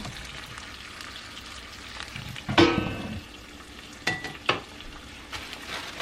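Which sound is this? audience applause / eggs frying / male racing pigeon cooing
eggs frying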